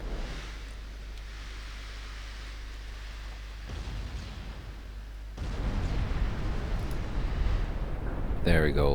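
Naval guns roar in the warship battle game Ultimate Admiral Dreadnoughts, a deep sustained rumble of broadside fire and distant booms that grows louder, with a voice briefly cutting in at the end.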